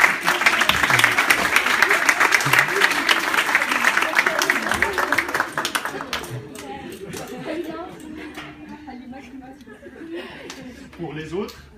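A graduation ceremony audience applauding hard for their families, a thick burst of clapping mixed with chuckles and laughter for about six seconds before it stops abruptly, leaving murmuring voices and low room noise.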